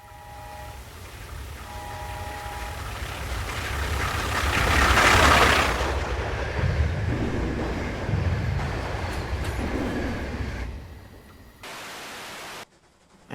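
An LNER Y6 tram engine in Train Simulator labouring up a 1 in 65 gradient at low speed: a steady, close rumbling chug with broad hiss that swells midway, then fades into softer running noise and a brief burst of static.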